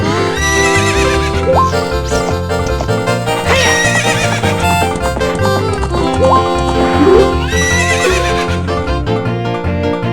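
A horse whinnies and hooves clip-clop during a corral race in The Legend of Zelda: Ocarina of Time, set against loud continuous game music that fills the whole stretch.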